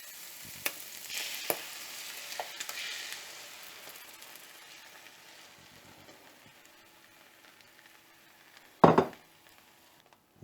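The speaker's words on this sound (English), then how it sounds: "Now I'm adding the egg mixture." Egg mixture for an oyster omelette frying in a pan, a faint steady sizzle with a few light utensil taps and one loud clattering burst near the end.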